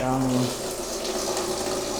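Steady rush of water running from a bathroom shower tap, loud and continuous throughout, with a brief low hum at the start.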